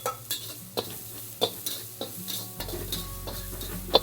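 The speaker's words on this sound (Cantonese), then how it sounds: "我哋而家爆香個料頭先" Aromatics are stir-fried in a wok. A spatula scrapes and taps against the metal in an irregular rhythm over a soft steady sizzle, close and fairly quiet, with no voices.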